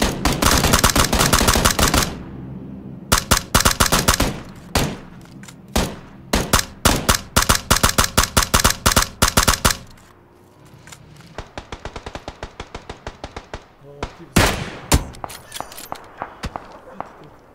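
Gunfire in a first-person shooter video game: loud bursts of rapid automatic shots, very close, broken by short pauses and a quieter stretch with scattered single cracks, and a voice briefly talking between bursts.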